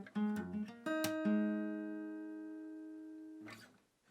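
Slap bass plays a short phrase from a riff, with a few thumb-slapped notes and pops up front and then a sustained ringing note that slowly fades, followed by a brief muted thump at the end.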